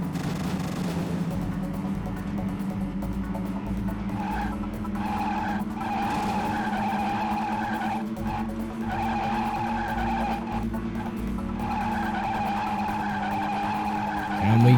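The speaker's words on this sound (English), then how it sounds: "the car's understeering, and into the wall we go" In the Stock Car Racer video game, a race car understeers with a long, loud tire skid over a droning engine, then strikes the wall near the end.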